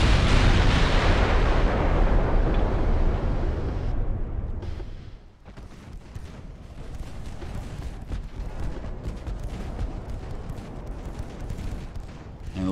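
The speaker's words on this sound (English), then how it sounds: "Secondary guns definitely doing the job." Secondary naval guns fire continuously in Ultimate Admiral: Dreadnoughts, a heavy wash of overlapping booms and blasts, loud at first and then settling into a steady crackle of smaller gun hits.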